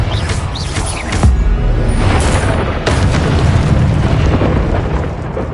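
Confringo spell explosions in the video game Hogwarts Legacy: heavy, loud booming blasts that roll into one another with sustained rumbling and crackling debris, filling the whole stretch without pause.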